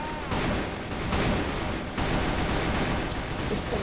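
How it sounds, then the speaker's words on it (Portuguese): Dense, sustained gunfire from the CrossFire first-person shooter game, a loud wash of overlapping rapid shots with brief dips, heard without talk. "tiroteio da porra aqui"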